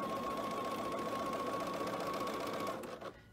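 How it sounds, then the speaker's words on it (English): A sewing machine stitches fabric pieces in a fast, even mechanical whir, close and steady, stopping abruptly near the end. "I'm sewing right on that line."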